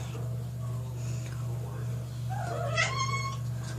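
Cats meow indoors, faint and wavering at first, then a clearer drawn-out meow near the end over a steady low hum.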